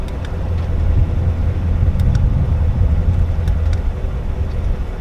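A Chevrolet Corvette C7 Z06 sports car engine idles with a low, steady rumble, close by and continuous, with a few faint clicks above it.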